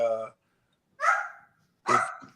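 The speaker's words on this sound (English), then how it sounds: "Oh, somebody's dog." A dog barks three separate times with short pauses between, sharp and fairly close against an otherwise quiet room.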